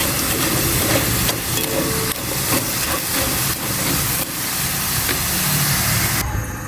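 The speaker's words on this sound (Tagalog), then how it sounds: "Nagdagdag ako ng mantika. Ito may naluto na. Pinapry ko lang maigi." Chicken for buffalo wings fries in hot oil, a loud, continuous crackling sizzle with bursts of spattering that swell and ease throughout.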